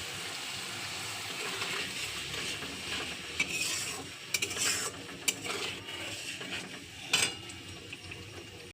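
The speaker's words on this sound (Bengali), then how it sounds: "তো দিচ্ছি মিক্সি বাটিটা ধুয়ে জলটা দিয়ে দিচ্ছি।" Rinse water from a mixer jar poured into a cooking pan of spiced fish curry, with faint trickling and stirring plus a few clinks of metal cookware, quiet and close.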